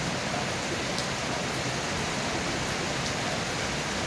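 Steady rain falls in Cavite during a week of nonstop downpour, a dense, even hiss that stays unchanged throughout with no voices.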